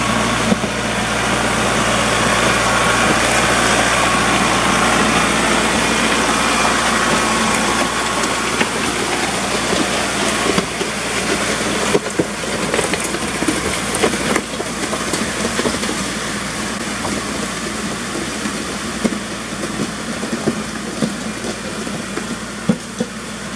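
A new tractor's engine runs steadily while smoothing a gravel driveway, a loud close diesel drone with a low throb, its load shifting slightly as scraping and crunching gravel rises underneath, with no speech.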